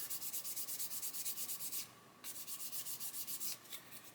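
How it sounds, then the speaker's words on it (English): A sanding stick rubs against a plastic model kit chassis in quick, even back-and-forth strokes, close and steady, with a brief pause midway before the rhythmic scraping resumes. "I'm letting the sanding stick do the work"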